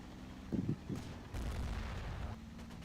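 A Char tank fires from a hilltop in a tank video game, heard as a few low booming blasts at a distance followed by a sustained rumble, fairly faint overall.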